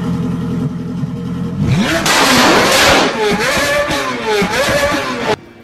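A car engine revs hard several times in close succession, loud and near, pitch sweeping up and down through each blip before cutting off, after a quieter idling start.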